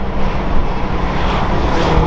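BMW M2 fitted with an Akrapovic Evolution exhaust and HJS downpipe, burbling in a steady, loud, dense low rumble that holds throughout with no pops or bangs.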